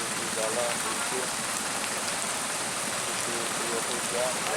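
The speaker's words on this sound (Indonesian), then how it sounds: "kondisi hujan" Steady rain hisses evenly on a wet, slippery road, a faint continuous patter with no break and no voices over it.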